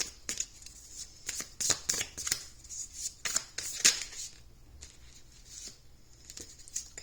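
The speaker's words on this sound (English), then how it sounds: "I'll pull some more cards." Tarot cards are shuffled and pulled, crisp flicking riffles and papery snaps coming in short irregular bursts up close, with quieter pauses between them and no speech.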